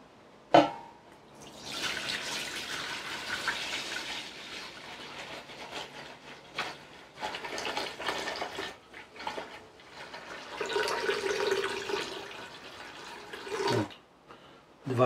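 Two litres of liquid pour into a pot while making passion fruit liqueur, a sustained splashing, gurgling stream that swells and fades, with a few clunks and brief breaks.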